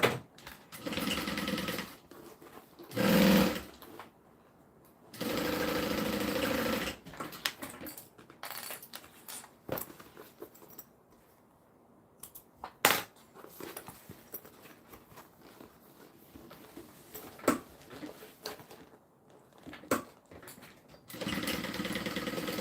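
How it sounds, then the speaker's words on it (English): A sewing machine sews the side seams of a bag in several loud, steady bursts of motor whir separated by pauses, with quieter handling noises and faint clicks in between. "I'm going to go ahead and sew open my side seams"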